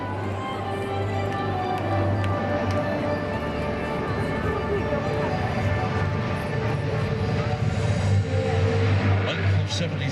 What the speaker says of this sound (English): will roll the aircraft to the left, showing us a beautiful profile of a wingspan of some 80 metres